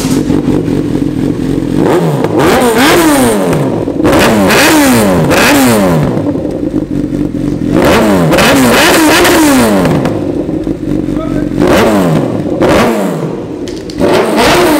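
A motorcycle engine revs hard in repeated bursts, rising and falling in pitch, loud and close with no one talking.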